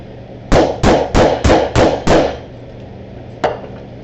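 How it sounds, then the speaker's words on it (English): Six sharp, evenly spaced hammer strikes on a peening tool set a metal snap into a leather wallet, loud and close, followed by a pause and one lighter tap. "holding it very straight up and down, give it a couple of whacks, kind of get it started"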